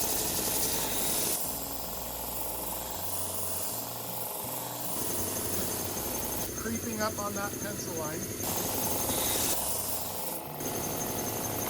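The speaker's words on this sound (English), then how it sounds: "I just got done sanding them." A power sander grinds against pine in a steady, rasping whir, running close and loud while someone talks over it.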